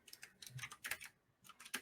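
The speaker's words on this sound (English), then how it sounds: "Bro's typing." Someone types on a computer keyboard, quiet clusters of rapid clicking keystrokes in short bursts with brief pauses between, faint and close with no voices.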